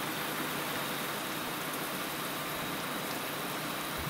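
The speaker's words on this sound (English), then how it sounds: "Look at this rain." Steady rain hisses across the windshield and cab in American Truck Simulator, a dense, unbroken wash of droplets with a faint engine hum beneath.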